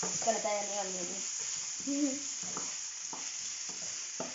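Onions fry in a pan with a soft hiss and a few stirring scrapes, while people talk over the cooking.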